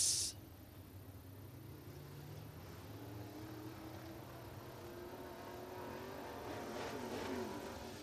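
Race cars at Northwest Florida Speedway in Baker, Florida: a distant, steady engine drone that slowly builds as cars accelerate and pass, fairly faint, with no talking.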